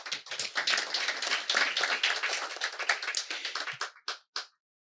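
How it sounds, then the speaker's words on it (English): An audience at a business summit applauds in a dense, lively burst of clapping for about four seconds, then thins to a few last isolated claps before silence. "That's worth an applause."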